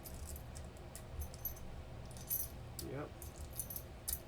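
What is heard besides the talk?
keys of a mortise lock jangling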